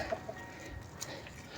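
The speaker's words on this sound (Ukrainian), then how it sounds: "Що тут кури?" Soft, scattered clucks from chickens against a faint background hum, a few brief calls spread across the moment.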